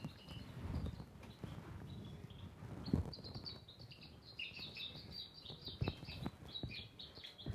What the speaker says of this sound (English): this is one mouse sniffing the pheromones from another mouse